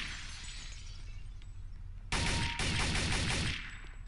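Gunfire in Counter-Strike: Condition Zero: a loud, harsh volley of rapid shots bursts out halfway through and keeps crackling for over a second after a quieter stretch of in-game background noise.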